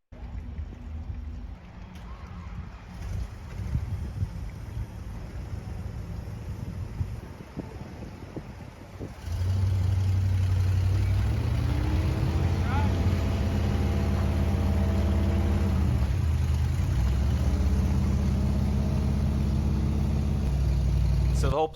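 A revived 1959 Plymouth Fury with no working brakes rolls along. Its engine rumbles in loudly partway through and holds a steady low drone, with wind buffeting the microphone throughout.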